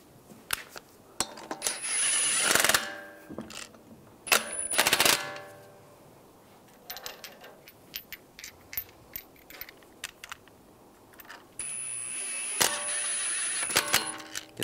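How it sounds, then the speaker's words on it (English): A ratchet works the lug bolts of a wheel on a 2013-2016 Dodge Dart, giving close, sharp metallic clicking runs and clinks of metal parts in uneven bursts separated by pauses, with no talking. "Take the lug bolts, get those started."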